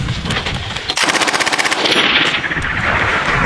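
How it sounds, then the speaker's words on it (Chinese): Machine gun fire in a US Marine urban combat exercise: a light machine gun rattles off long rapid bursts of loud shots, the rhythm steady and close, echoing across the surroundings. "机枪手只管开枪，有专人给他补充弹药"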